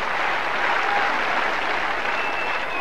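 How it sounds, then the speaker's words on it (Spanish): A tennis crowd at the 1993 Roland Garros final applauds Sergi Bruguera, a loud, sustained roar of clapping from a large stadium audience, even and unbroken throughout. "Estos aplausos sí son para Sergio,"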